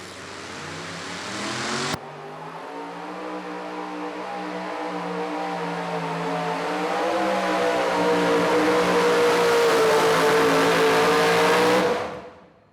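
A super modified two-wheel drive pulling truck at a Goshen, Indiana pull roars loudly and continuously, the engine pitch climbing and holding under full throttle before cutting off abruptly at the end.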